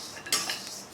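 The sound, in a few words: stirring rice roasting in a hot pan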